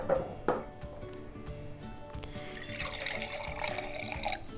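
Water poured into containers for a cabbage and food coloring experiment, close splashing and trickling with a few clinks, then a brighter stream filling partway through, without talking.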